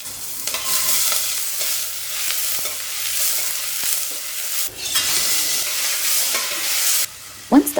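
Onion, green chilies and mustard seeds fry in a tablespoon of oil in a pot, a steady close hiss of sizzling with occasional stirring scrapes and a brief clatter near the end.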